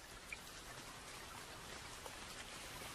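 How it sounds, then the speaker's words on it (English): Steady rain falls in the Sierra Nevada, a soft, even patter of drops with no voices, quiet and continuous throughout. "as a steady rain fell in the Sierra Nevada"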